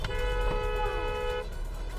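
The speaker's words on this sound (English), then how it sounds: "People honk the horn for like literally no reason here." A car horn honks in Chinese street traffic, one steady blast lasting about a second and a half, loud and close over the rumble of the road, then cut off as the engine noise carries on.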